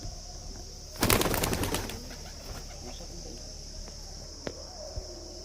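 Giribaz pigeons released from a rooftop burst into a loud flurry of wing flaps, then fade into faint cooing and scattered light sounds against quiet outdoor background.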